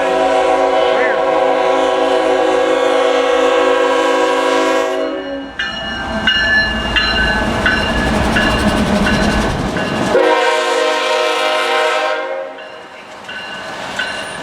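A freight train led by a GE Tier 4 GEVO locomotive sounds its horn in long, loud, chord-like blasts, broken by a roaring, rattling rumble of the passing engine and cars before the horn returns.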